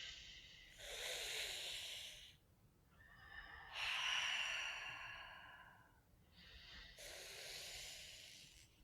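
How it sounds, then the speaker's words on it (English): A person breathes in slowly through clenched teeth as a breathwork exercise, making three long, airy hissing inhalations with short quiet gaps between them, close and fairly soft. "So the version of it for those who can't curl your tongues is through your teeth"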